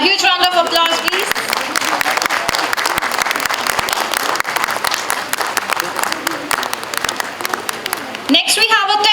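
A hall full of people clapping at an academic celebration honoring authors, dense sustained applause throughout, with a speaker's voice briefly audible at the start and again at the close.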